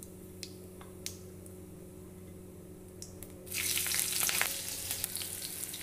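Green chilies and cumin seeds hitting hot oil in a pan, a sudden loud sizzle bursting in after quiet clinks and a steady low hum, then crackling on steadily.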